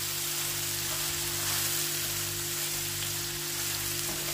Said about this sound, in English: Now we're gonna fry onion